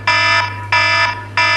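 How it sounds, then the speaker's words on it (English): An iPhone alarm goes off as three evenly spaced bright electronic beeps, each lasting about a third of a second, loud and close over a steady low hum. "not the sounds of some guy's obnoxious iPhone alarm that kept going off"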